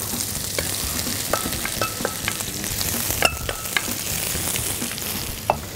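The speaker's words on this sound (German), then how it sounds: "Dann kommen die Zwiebeln da rein." Onions sizzle in a frying pan with a dense, even crackle, punctuated by scattered clicks and scrapes of stirring, close and fairly loud with no talking.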